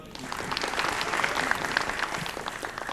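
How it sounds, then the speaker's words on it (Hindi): A stand-up comedy audience gives a short, even burst of applause, a dense wash of many hands clapping at moderate volume throughout. "भाई के लिए एक दफ़ा तालियां बजा दें"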